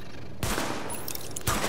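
Gunfire at highlighted targets during a sidearm test in the video game Tom Clancy's The Division, with two sharp loud shot bursts about a second apart over a dense game soundscape.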